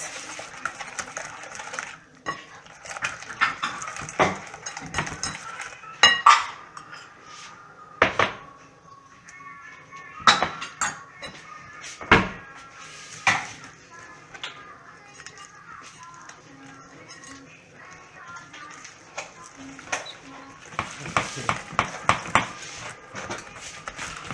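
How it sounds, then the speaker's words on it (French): Crêpe batter being whisked in a bowl, with irregular clinks and scrapes of utensil against the bowl, some sharp knocks and a few louder clatters mixed with faint speech. "Voilà, on mélange bien."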